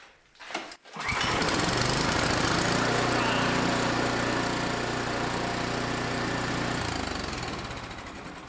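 A snowblower engine pulled to life with a cord: a brief yank at the start, then it catches and runs at a steady, loud, rough idle close by, with no one speaking.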